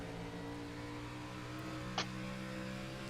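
Stock car engine in a sim racing league race at Milwaukee, a steady droning hum held at an even level throughout, with no voices.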